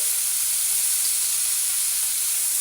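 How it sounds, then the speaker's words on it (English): Broccolini sautéing in a hot pan with garlic and chili flakes gives a steady, bright sizzle and hiss that holds evenly throughout, close and fairly loud, with no talking. "toss it all in there and just let it saute for about 1 minute"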